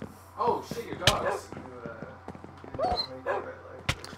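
Dogs in a video game bark in sharp, close yips and woofs scattered over a few seconds, mixed with thumps and game sounds while a person talks.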